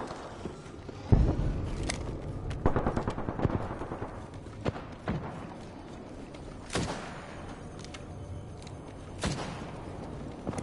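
Apex Legends gunfire crackles in scattered bursts and single sharp shots, some close and loud, others fainter, with footstep-like shuffles between volleys.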